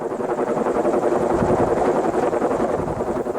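Jet Ranger helicopter flying overhead, a loud steady rotor chop and turbine whine that swells slightly toward the middle and holds throughout, with no voices.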